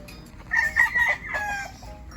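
A fighting rooster crows once in a drawn-out, wavering call at moderate distance on a small provincial farm, with faint background ambience and no talking.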